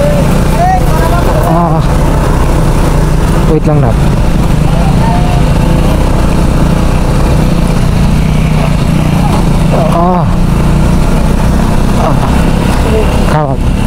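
A motorcycle laden with heavy cargo labors along a muddy road in Albay, Bicol, its engine droning loudly and continuously with brief revving surges while a rider talks briefly.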